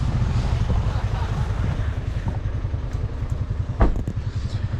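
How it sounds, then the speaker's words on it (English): Strong gusting wind buffets the microphone on a mountain bike course at a Red Bull Hardline practice day, producing a continuous rough low roar with a brief sharper gust near the end. "it's still too windy"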